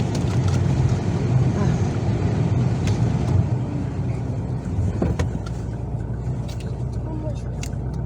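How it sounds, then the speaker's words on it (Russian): A car passing behind people in a street outside a shop, a steady low rumble running throughout at moderate distance, with people talking over it. "Сейчас машина проедет сзади."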